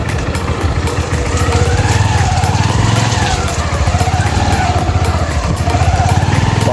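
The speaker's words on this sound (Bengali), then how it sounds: "চাকা স্লিপ করছে খুব।" A motorcycle engine revs hard and continuously, close and loud, as the rear wheel slips and spins on a jungle beach.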